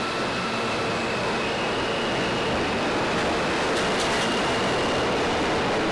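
A New York City subway train running, a loud, constant rumbling roar of wheels and car noise heard from close by, with faint metallic squeals near the end and no speech.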